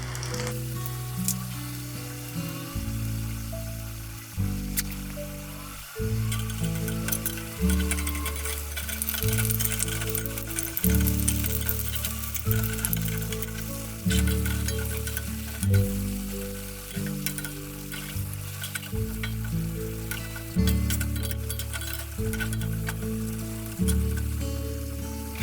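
Burmese atho ingredients deep-frying in hot oil on a Chennai street-food style stove, a steady close crackling sizzle with bubbling foam, continuous throughout with no talk.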